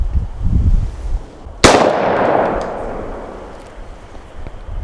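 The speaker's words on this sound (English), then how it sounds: "And here's another shot with the Winchester PDX Defender." A single loud gunshot from a .410 handgun firing Winchester PDX Defender ammunition, a sharp blast at mid-clip with a long decaying echo, preceded by faint low rumble.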